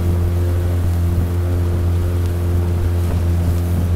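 Car ferry's boat engine drones steadily and loud while crossing a river, a constant low hum with no talk over it.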